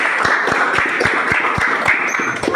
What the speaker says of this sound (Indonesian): beri aplaus buat teman kita